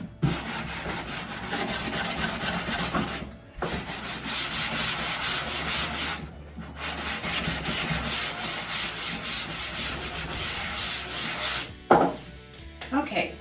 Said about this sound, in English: take your sanding block from your kit and just sand the edges